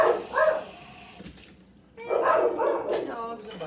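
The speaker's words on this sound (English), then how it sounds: "The dogs are barking." Dogs barking at home, two short bursts of barks with a pause between them, moderately close and fairly loud.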